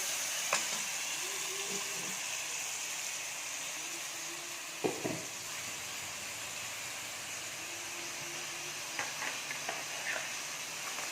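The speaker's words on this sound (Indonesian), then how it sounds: "Bawang merahnya ditumis sampai harum." Shallots sauté in hot oil in a pan, a steady close sizzle with occasional stirring clicks and scrapes of a utensil, while a voice talks faintly at times over the cooking.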